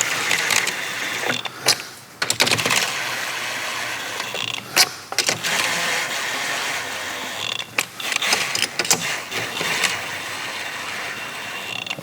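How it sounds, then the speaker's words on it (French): A ratchet wrench spins wheel studs snug on a Ligier Staby brake disc, giving close, loud runs of fast metallic clicking broken by short pauses, with no talking. "Et pareil, je vais approcher avec la clé sans les serrer"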